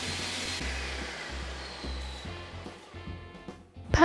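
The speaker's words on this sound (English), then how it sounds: "Blend it up all together until it's nice and smooth." A blender whirring through watermelon, lime, mint and syrup, a steady motor drone with its pitch shifting in pulses, mid-level and alone, rising into a louder clatter at the very end.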